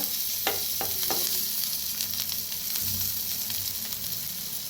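Eggplant slices frying in oil in a pan, a steady close hiss and sizzle throughout with a few light scraping knocks near the start.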